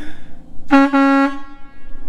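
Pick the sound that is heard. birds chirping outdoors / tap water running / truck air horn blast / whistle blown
truck air horn blast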